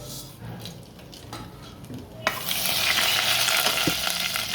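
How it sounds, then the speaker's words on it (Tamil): Hot oil bursts into a loud, steady sizzle midway as cinnamon, fennel seeds and bay leaf hit the pan for mutton gravy, following quieter clinks and stirring. "இப்போ இது தாளிக்கிறதுக்காக கொஞ்சம் பட்டை பெருஞ்சீரகம் பிரிஞ்சி இலை போட்டுக்கலாங்க"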